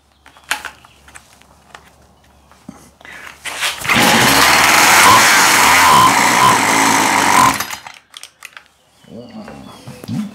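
Husqvarna 142 chainsaw on full choke, pull-started several times; a short rope-pull rasp gives way to a loud, close burst of engine roar lasting a few seconds before cutting out, with quieter handling noises around it.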